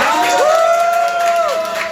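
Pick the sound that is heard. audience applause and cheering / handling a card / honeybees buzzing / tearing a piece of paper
audience applause and cheering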